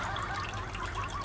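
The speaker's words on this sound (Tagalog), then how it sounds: "lalagyan ko siya ng tubig." Mineral water is poured into a fish aquarium, a brief, steady, close trickle and gurgle of liquid.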